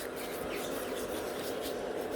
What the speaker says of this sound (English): I'm just giving a couple scratches to the entire surface of the tip